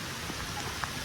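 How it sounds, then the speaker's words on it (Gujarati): Steady rain falls in the Dang mountains, a dense, even hiss of drops heard close and alone for about a second. "ફરીથી વરસાદ ચાલુ થઈ ગયો છે"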